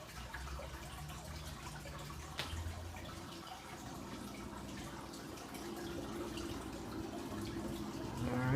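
Water trickles and gurgles steadily as an aquarium is refilled after siphoning during a saltwater change, a soft continuous liquid sound that swells slightly toward the end.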